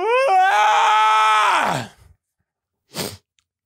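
A person's long, loud, drawn-out vocal yawn, voiced with a sliding pitch that trails off after about two seconds, followed by a short breathy exhale.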